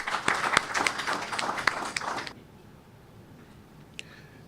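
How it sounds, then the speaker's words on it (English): An audience at an anniversary cocktail event applauds a keynote speaker, a dense burst of clapping for about two seconds that cuts off abruptly, leaving a quiet room with one faint tick near the end. "Let's give him a round of applause as he comes."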